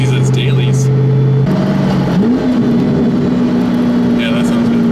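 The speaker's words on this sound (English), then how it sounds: "there's a really good amount of engine noise too, not just all exhaust" Inside a 2010 Mustang GT with the 4.6 V8 while driving, a steady engine and exhaust drone shifts pitch as the car changes gears and accelerates, with a person talking briefly over it.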